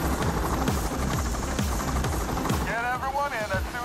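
Escape helicopter arriving in the video game Payday 2, a steady loud rotor chop that fills the scene, with a voice talking over it near the end.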